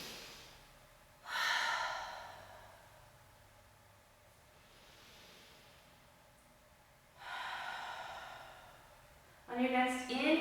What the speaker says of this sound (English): You can take an audible exhale